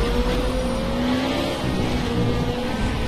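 An Ariel Atom 500 V8 slides around a bumpy track on warmed-up tyres, its engine holding a steady, loud drone from close by with no break.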